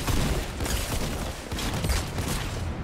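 Rapid, dense gunfire in a Fortnite Battle Royale match, loud bursts of shots overlapping continuously for a few seconds with no talk.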